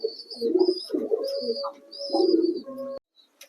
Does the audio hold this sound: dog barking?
no